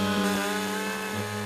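A chainsaw cuts trees in a dense forest, its engine droning steadily up close with a buzzing, slightly wavering pitch and no voices.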